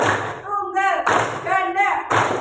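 A classroom of students claps together in single unison claps, sharp broadband thuds at regular intervals, with a teacher's voice speaking between them.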